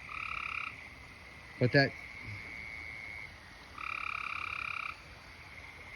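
Frogs and toads calling at night, with two long steady trills separated by a short burst of sharp croaks, heard at moderate distance against a quiet background.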